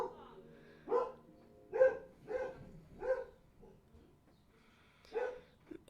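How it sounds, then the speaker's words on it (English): A dog barks indoors, five or six single woofs spaced about a second apart, slightly distant and moderately loud. "Sorry, that's my dog if you can hear him."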